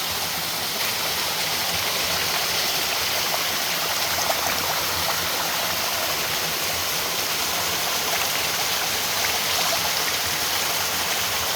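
The Sabuj waterfall, a green-walled cascade in natural surroundings, pours in a continuous, even roar of rushing water, steady and enveloping from start to finish with no voices.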